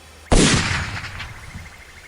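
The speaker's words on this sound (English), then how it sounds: "I fired." A single loud gunshot from a 10mm sidearm cracks sharply and then fades in a long echoing tail, with no talk over it.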